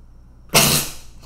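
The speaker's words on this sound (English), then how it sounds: "Goddamn, I gotta sneeze" A single sudden sneeze bursts out close by, loud and breathy, lasting under half a second before quiet returns.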